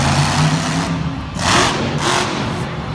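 Monster Jam monster truck at an arena show in Lincoln, Nebraska, its engine rumbling steadily and then surging in a few loud, close revs as it lines up for a sky wheelie.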